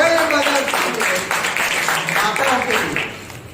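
Applause from a church congregation honouring mothers at a Mother's Day service: a dense, steady wash of many hands clapping together for a few seconds, fairly loud, before thinning toward the end.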